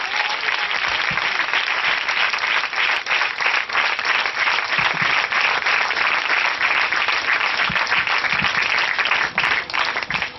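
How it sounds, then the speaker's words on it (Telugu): A church congregation claps loudly and continuously in praise, dense rapid clapping that fills the hall for several seconds, with no talk over it. "చప్పట్లు కొట్టి స్తోత్రం చెబుదాం గట్టిగా."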